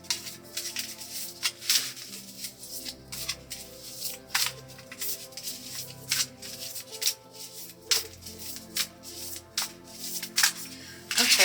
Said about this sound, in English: So I'm going to shuffle this deck